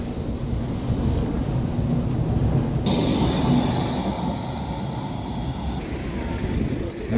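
A train rumbles past at close range in Vienna, Austria, wheels screeching with a high metallic squeal partway through, loud and continuous.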